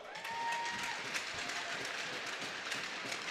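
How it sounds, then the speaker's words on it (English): A crowd applauds at an ASU Sun Devils college hockey senior day game against Arizona, with steady, fairly distant clapping filling the arena and no single sharp claps standing out. "they're applauding some of their off-ice staff who will be graduating"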